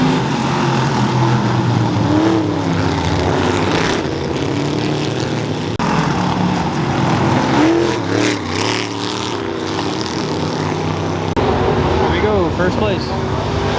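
Race car engines roar at full throttle around a speedway track, sustained loud droning with pitch rising and falling as cars pass, a person talking over the racing noise.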